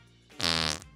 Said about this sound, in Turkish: Osuruyor.